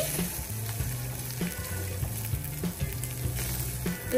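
Prawns fry lightly in a pan with a steady, close sizzle, while a utensil scrapes and stirs them at a regular rhythm.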